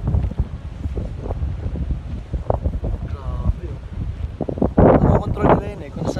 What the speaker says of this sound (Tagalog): Grabe yung wind.